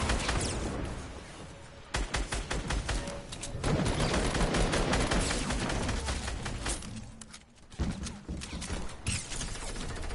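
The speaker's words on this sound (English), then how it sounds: "Get that mad machine gun, boy" Sustained machine gun fire in the Fortnite video game, rapid loud bursts in dense rattling streams that break off briefly and resume, close and continuous with no talk.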